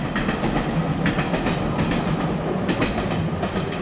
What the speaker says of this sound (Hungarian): Pont most jön a vonat.